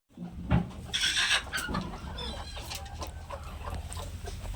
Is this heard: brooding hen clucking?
yes